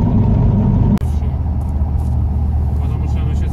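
A ZAZ-968M car drives along an asphalt road, its engine rumbling steadily and close from the start, with a brief thump about a second in.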